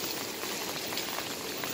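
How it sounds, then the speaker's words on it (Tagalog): Heavy rain pours steadily in Qatar, a dense, continuous hiss of drops striking surfaces with no pauses, fairly faint and even throughout, with no voices. "pabugso-bugso yung ulan."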